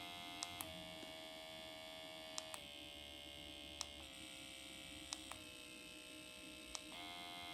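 The MD Needle Pen, a handheld microneedling device, runs its motor with a thin steady electric buzz, with brief clicks as speed settings change and a slight pitch drop after each, quiet and close, with no talk.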